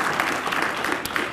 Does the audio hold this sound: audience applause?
yes